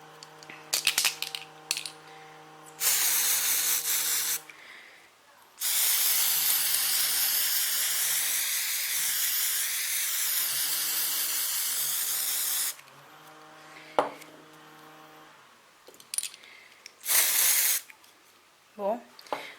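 Nocibé spray nail varnish hissing from its can in long steady bursts, close and loud, with a short squirt first and a longer continuous spray, while someone talks and rattles around it.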